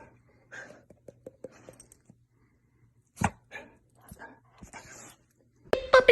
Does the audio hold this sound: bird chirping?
no